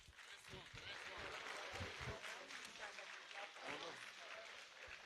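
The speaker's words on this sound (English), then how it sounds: "I believe you are clapping for me." Audience clapping at a pharmacists' association annual general meeting and dinner, a quiet, distant patter of hands with speech and murmuring over it.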